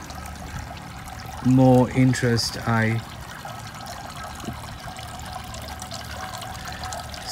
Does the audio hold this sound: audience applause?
no